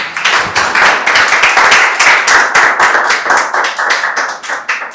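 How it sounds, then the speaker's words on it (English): An audience at a Toastmasters club meeting applauds after a speech, steady close-up hand clapping that stays loud and dense for several seconds with no talking. "applause is not enough for such a good speech"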